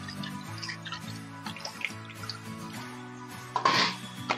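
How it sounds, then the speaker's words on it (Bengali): Boiled pointed gourd gets rinsed under running water, giving a soft, continuous trickle and splash with light knocks and a louder burst of water near the end, heard alone at close range. "সেদ্ধ হয়ে গেলে পটলটা ধুয়ে নিচ্ছি।"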